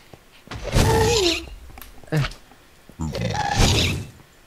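A Minecraft ghast shoots fireballs, two screeching wails each followed by a booming burst, with a hollow thud between them, while a person speaks.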